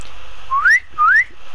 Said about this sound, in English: That was an out of tune whistle.